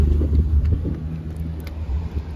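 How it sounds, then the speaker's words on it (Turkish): A car approaches along a street, its low engine rumble rising and falling close by in the first seconds and then lingering as a softer background drone. "Araba geliyor. Araba geliyor da."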